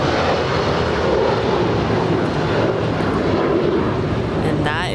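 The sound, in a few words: United Boeing 757-300 airliner departing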